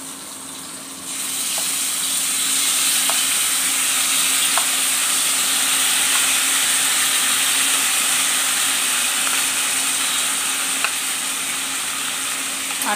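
Potato, plantain and pointed gourd fry in hot oil with a steady, close sizzle, a few soft stirring clicks breaking the constant hiss.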